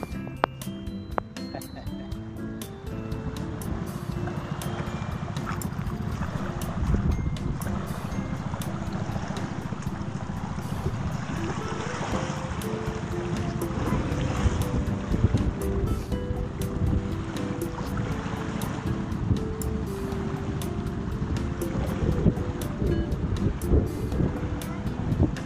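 Water sloshes and laps steadily around a small wooden rowing boat (bangka) paddled by a child, with wind buffeting the microphone and occasional rhythmic splashes like oars dipping.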